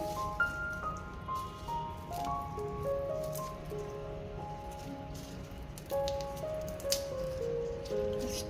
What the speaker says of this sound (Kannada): ಈ ಥರ ಕಾಳುಗಳನ್ನು, ಬೆಳ್ಳುಳ್ಳಿ ಕಾಳುಗಳನ್ನು ಬೇರೆ ಮಾಡ್ಕೊಳ್ಳೋಣ ಫಸ್ಟು